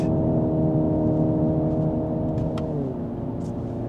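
A 2025 Hyundai Ioniq 5 N electric sports car hums with steady, layered tones that shift upward in pitch partway through, a continuous smooth acceleration with no voices.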